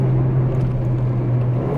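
A Mercedes GLA 45 AMG engine hums steadily up close with a low, throaty exhaust drone during a downshift, holding an even note throughout with no talking.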